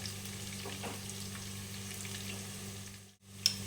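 Pieces of rohu fish frying in oil in a pan, a quiet steady sizzle close by that dips briefly near the end before a small clink.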